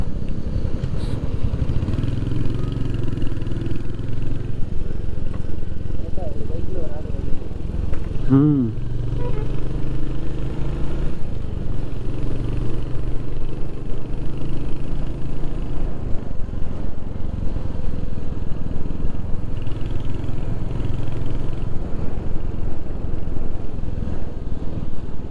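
A Royal Enfield Hunter 350 motorcycle riding on a road toward Munnar, its engine a steady loud drone with wind rumble throughout, plus a brief clatter midway.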